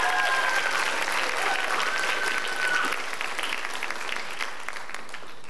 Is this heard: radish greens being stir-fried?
no